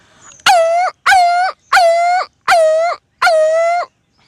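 A human voice imitates a crying puppy: five loud, drawn-out whining yelps, evenly spaced with short pauses between them.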